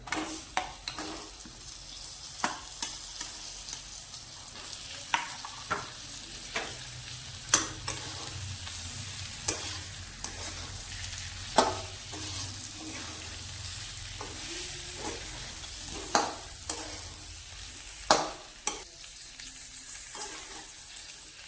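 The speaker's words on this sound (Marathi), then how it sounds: "अशा प्रकारे आपण वांगी सगळी तेलात चौकडून परतून घेणार आहोत." Brinjal pieces are fried in oil with a masala of ground peanuts, giving a continuous soft sizzle broken by sharp spatula clacks and scrapes against the pan at irregular intervals.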